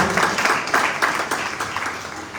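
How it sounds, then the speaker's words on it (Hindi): A congregation claps during a Sunday Urdu sermon, a short run of fairly regular, close hand claps from a modest group that fades slightly toward the end. "आइए तालियां बजाएंगे ऐसे कैरेक्टर्स के लिए जो बाइबल में आते हैं"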